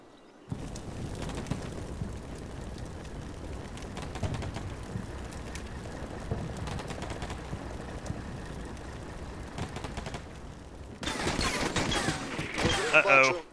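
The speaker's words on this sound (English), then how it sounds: "All right, artillery's hitting." Artillery and gunfire landing in a Ukraine campaign video game mission, a steady dense rumble of distant impacts and shots, with a louder close burst near the end.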